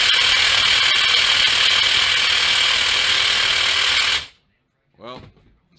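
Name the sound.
cordless 1/4 hex impact driver hammering a stubborn bolt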